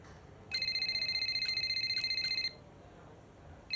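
A phone in the F1 25 racing game rings with a steady electronic trill for about two seconds, loud and close over a quiet background hum, then stops.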